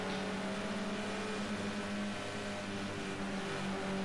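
BMW and Mercedes touring cars race at Oulton Park International, their engines a steady, loud drone with harmonic tones that shift slightly as they pass through Island Bend.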